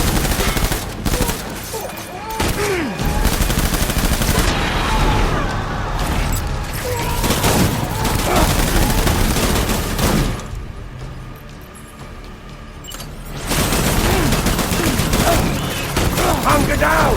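Sustained gunfire in Death Stranding, dense rapid bursts of automatic shots and booms that keep going loud and close, with a brief lull in the middle before the firing resumes, with voices now and then.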